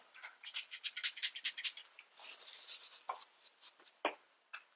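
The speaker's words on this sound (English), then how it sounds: "I'm just going to spritz it and then swirl it around in a paper towel" A makeup brush sprayed with cleanser is swirled and rubbed on a paper towel, making close, rhythmic papery scrubbing strokes, then slower scattered swishes and taps.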